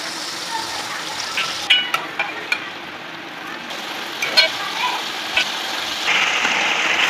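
Pumpkin frying in ghee in a pot, a soft crackling sizzle with sharp clinks of a spoon against the pot, and a voice talking at times.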